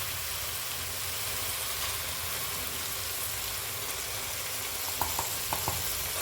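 Garlic, ginger and tomato paste fry in a pan with a steady, close sizzle throughout, and a few light stirring scrapes appear near the end. No one speaks.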